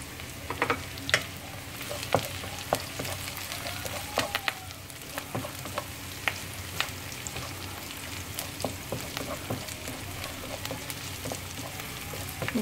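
Curry leaves crackle and sizzle in hot oil for an Indian-style cabbage stir fry, a steady close frying hiss dotted with sharp pops and occasional stirring clicks throughout.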